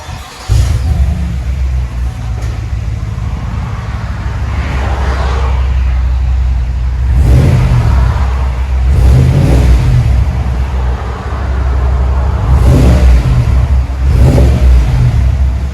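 A 2020 GMC Sierra AT4 with dual exhaust and a 22-inch Magnaflow muffler, idling with a deep, loud rumble and then revved several times in repeated surges, close up and with no talk.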